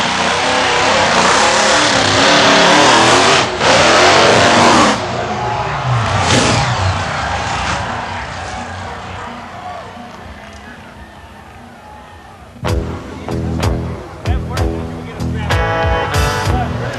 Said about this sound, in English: the trucks go tearing across a stack of crushed cars